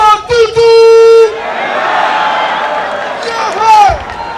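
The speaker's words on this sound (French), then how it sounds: "Mesdames et messieurs, sous vos applaudissements, nous allons recevoir Jean-François Toutou." A crowd at a citizens' convention backing Jean Ping's candidacy breaks into applause and cheering. A steady wash of clapping swells after an opening voice and holds at full strength, then another voice rises over it near the end.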